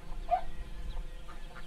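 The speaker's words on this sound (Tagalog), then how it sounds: "Yung mga native na manok" Native chickens on a small farm give a couple of faint clucks over a steady low outdoor rumble, heard at a distance with no talking.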